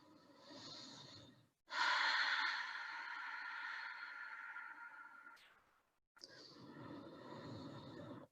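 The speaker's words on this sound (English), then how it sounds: "Deep breathing, Ujjayi." Deep Ujjayi yoga breathing during a gentle yoga session, heard as long, steady, close breaths with a soft hissing, ocean-like rasp, two extended passes separated by brief pauses.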